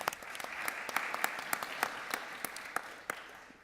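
A small audience at a Sacramento briefing claps steadily for a few seconds, with crisp individual hand claps standing out over the quiet background.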